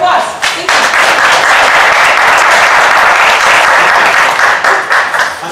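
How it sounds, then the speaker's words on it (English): A standing audience at a 1 Million Cups Dallas startup-pitch morning gives a loud, steady round of applause. The dense clapping fills the whole stretch and starts to taper only at the very end. "We'd like to stand up, as you all know, and give a round of applause."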